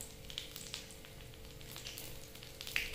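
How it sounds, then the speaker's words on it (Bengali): Cumin seeds and bay leaf sizzling in oil for a village-style country chicken curry, a soft continuous frying crackle with scattered tiny pops, fairly faint and steady. "ভালো করে জিরা ভেজে নেব।"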